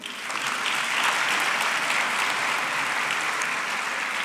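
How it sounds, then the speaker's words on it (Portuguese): Steady, dense applause from an audience at a professional oath-of-honour ceremony in Lisbon, swelling in over the first half second and then holding loud and even to the end. "Mais um aplauso."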